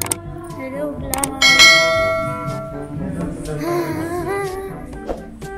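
Bells ringing from the bell tower inside West Edmonton Mall, several loud struck tones that ring on and overlap, with a faint murmur of people in the background.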